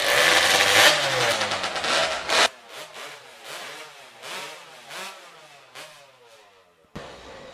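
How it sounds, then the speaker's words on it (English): STIHL hot saw engines warm up at a timbersports hot saw competition, roaring loud for a few seconds, then dropping into rhythmic, sputtering revs with repeated blips before a sharp final burst. "Warm up your saws."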